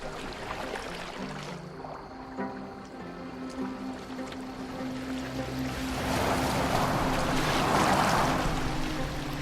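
A boat moves across water in the video game Assassin's Creed Valhalla, with a steady wash of waves and water noise swelling louder midway under a low ambient music drone and no speech.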